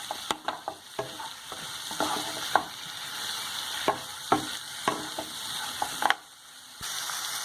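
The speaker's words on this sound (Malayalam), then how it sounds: "ഒരു 2-3 മിനിറ്റെങ്കിലും ഒന്ന് വഴറ്റി കൊടുക്കാം" Soya chunks and tomato sauté in a pan for soya chilli, a steady close sizzle broken by scattered scraping stirs and clinks of a spatula, with a brief drop near the end; no talk.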